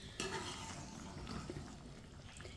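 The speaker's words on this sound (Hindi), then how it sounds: "एक बार दोबारा चम्मच चला लेंगे।" Spoon stirring a pot of boiling water for beef pulao, a soft continuous bubbling and scraping wash lasting a few seconds, fairly quiet with no talk.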